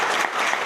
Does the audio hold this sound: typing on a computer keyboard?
no